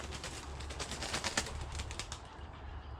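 A pigeon cooing in a garden with a tall hedge, with soft repeated calls and some wing flutter over steady low background hum, moderately near and fairly faint.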